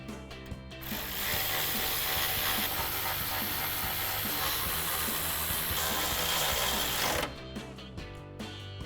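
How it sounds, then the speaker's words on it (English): A ratchet fitted with a 10mm socket tightens headlight bolts on a 2007-2013 Chevrolet Silverado 1500, a few loose clicks giving way to a long, loud, continuous buzzing ratchet run lasting about six seconds, then scattered clicks again. "we'll tighten them all down with our 10mm socket."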